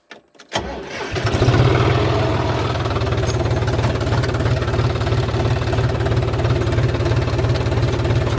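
A John Deere tractor engine starts and settles into a loud, steady diesel run close by, its rhythmic low chugging continuous throughout.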